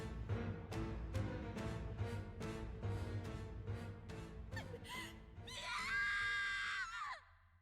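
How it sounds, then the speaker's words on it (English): A video game character in Metaphor: ReFantazio lets out a long, loud, strained scream over dense rhythmic music; the scream rises to a sustained peak before cutting off abruptly. "That was a nice scream"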